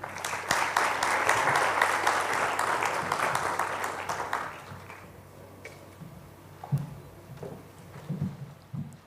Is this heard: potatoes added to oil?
no